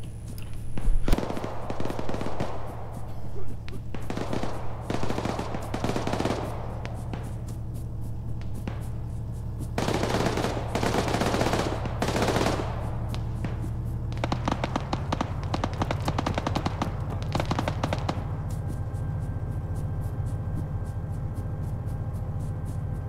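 Gunfire aimed at the player in the combat game Arma on Sahrani, with rapid bursts of shots and scattered cracks, some loud and close and others more distant, over a constant low engine-like rumble.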